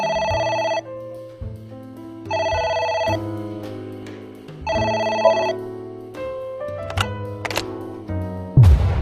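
A telephone rings inside the video game AI: The Somnium Files, a loud electronic ring repeating in three even bursts with short gaps, followed by brief sharp game sound effects at the end.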